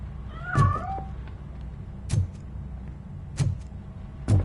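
A cat meowing in the video game Robocop Rogue City, one short meow followed by soft, faint, brief sounds spread over a low steady background rumble.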